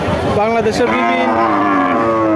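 A cow at a cattle market lets out one long, loud, close moo that wavers in pitch, with a little background noise from the crowded market around it.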